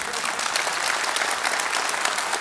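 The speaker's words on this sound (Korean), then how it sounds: "박수 좀 치세요" Lecture audience clapping in a hall during a university president's special talk, a dense, even burst of applause throughout.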